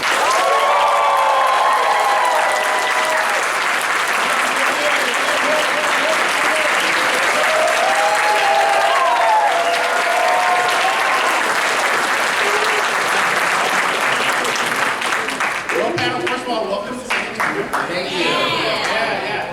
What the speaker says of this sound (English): Can we get a good San Antonio and Kawacon applause for the panel of the voice actors of Jujutsu Kaisen?